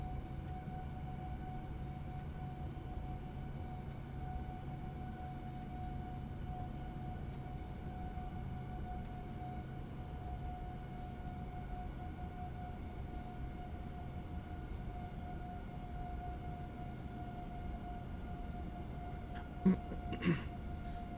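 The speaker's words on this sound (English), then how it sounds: "Trying to see how much we can push this plane." A Boeing 787-9 airliner in Microsoft Flight Simulator cruises at high speed, a steady whooshing engine drone with a constant whining tone holding evenly throughout, joined by a few faint clicks near the end.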